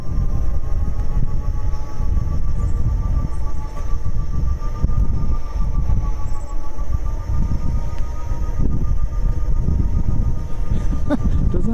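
A Gotway ACM2 electric unicycle motor gives off a warbly, sci-fi whir, a wavering tone riding over loud, rumbling wind and road noise as the wheel rolls steadily along.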